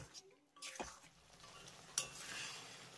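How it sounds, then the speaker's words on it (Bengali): Sugar and a spice mixture being stirred into raw tomatoes in a bowl, with soft scraping and a sharp clink of a spoon against the dish partway through, close and fairly quiet with no talking. "এবার চিনি আর এই মশলার মিশ্রণটাকে আমি টমেটোর সঙ্গে খুব ভালো করে একবার মিশিয়ে নেব"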